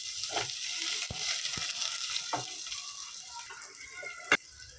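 Onions and salt hitting hot spiced oil give a soft, constant sizzle close by, with light scrapes and clinks from a spoon, one sharp knock near the end, and no voices.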